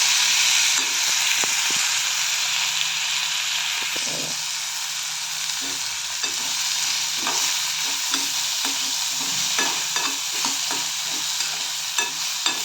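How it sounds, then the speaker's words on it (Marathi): Continuous sizzling of food frying in oil, with a spoon or spatula stirring and scraping the pan in irregular taps. "तेलामध्ये परतून घ्यायचं आहे"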